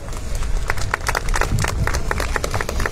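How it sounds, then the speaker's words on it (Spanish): Loud, dense applause from a crowd at a commemorative ceremony in Puno, many overlapping claps forming a continuous close roar that holds steady throughout. "Lo recibimos con un fuerte voto de aplausos."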